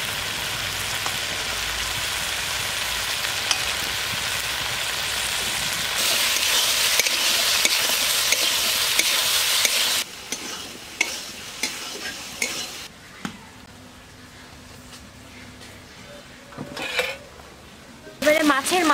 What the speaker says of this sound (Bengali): এবার সে কেটে রাখা আলুগুলো দিয়ে দিচ্ছি